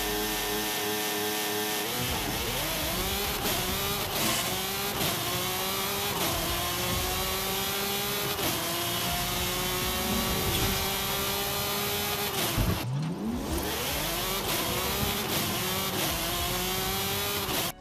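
A McLaren F1 GT in Forza Horizon 5 accelerates hard, its engine climbing steadily through gear after gear with repeated rising revs and brief drops at each shift, loud and close with no talk.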